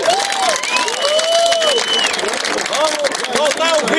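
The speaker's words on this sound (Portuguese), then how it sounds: "Uma salva de palmas para todo mundo!" A crowd at a rally at a land occupation in Betim, Minas Gerais, claps and cheers at close range, with continuous applause under rising whistles and excited shouted voices.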